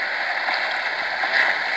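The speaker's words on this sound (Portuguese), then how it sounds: "tem que parar de chover logo, mano. Eu tô na chuva, eu vou ficar encharcado aqui" Steady rain falls in the Survivalcraft 2 video game, a continuous even hiss that stays at a moderate level throughout without any clear individual drops or breaks.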